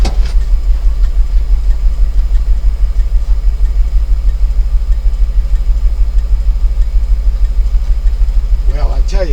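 A car engine idles steadily after a new radiator was fitted, with a low, even rumble close by that holds for about nine seconds, and a voice is briefly heard near the end.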